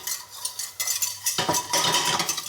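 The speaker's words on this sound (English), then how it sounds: "Now let's have a couple of spoons of flour," A whisk scrapes and stirs flour into melted butter in a pan for white sauce, quick close metallic swishes growing busier and louder, with no voices.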